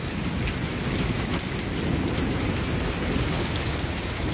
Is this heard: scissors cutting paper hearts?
no